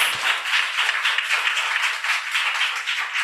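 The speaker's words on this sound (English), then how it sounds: "please give them a round of applause" An audience at an in-house gathering gives a steady round of applause, bright and dense clapping that holds for a few seconds without talk.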